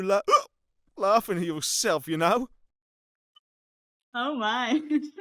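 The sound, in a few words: hiccup from video game character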